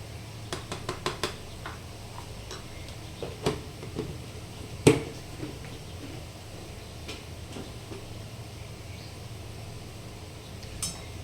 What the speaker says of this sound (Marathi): आता छान असं मिक्स करून घेऊया